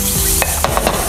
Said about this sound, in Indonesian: Makanya aku saute lebih di awal.